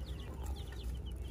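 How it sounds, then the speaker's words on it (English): Little chicks in a farm supply store give soft, faint peeping chirps that repeat over a steady low hum of the indoor space. "I just want to hold the little chicks."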